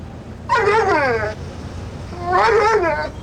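A dog gives two drawn-out, warbling vocal phrases with a howl-like, sing-song rise and fall, imitating the cadence of the words "I love you". Each phrase is close and clear, with a short pause between them and no talking.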